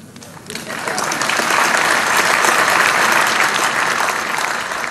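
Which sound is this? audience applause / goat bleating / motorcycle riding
audience applause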